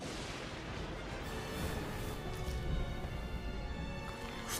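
Battle noise from the strategy video game Nobunaga's Ambition during the Honnō-ji attack: a faint, dense wash of scattered gunfire and rumbling bursts that swells slightly midway.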